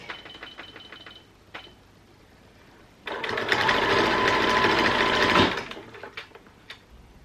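A sewing machine stitching two costume parts together: a few light ticks at first, then a loud, rapid mechanical whirring run for about two seconds before stopping, followed by faint handling sounds.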